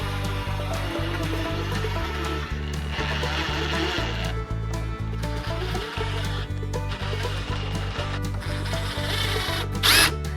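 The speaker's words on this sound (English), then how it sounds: "gonna take these little black 1-inch screws and screw them into the side." Power drill driving small black one-inch screws into scrap wood, a steady mechanical whir with short bursts and pauses as each screw seats, close and continuous across the clip.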